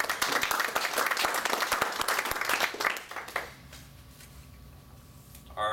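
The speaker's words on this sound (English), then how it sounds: "Quick round of applause." A quick round of applause at a youth baseball team gathering, a crowd clapping briskly for about three seconds before fading into quiet room tone, with a faint sound starting again at the very end.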